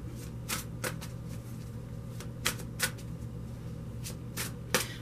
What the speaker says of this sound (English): I'm just going to put this over here for a second so I can start shuffling these.